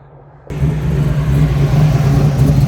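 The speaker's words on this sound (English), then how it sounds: "Well, you revved it up higher." A Ford Maverick with a stick-shift 347 engine, driven on the street, kicks in abruptly with a loud, steady rev and a deep, sustained rumble that holds close and strong to the end.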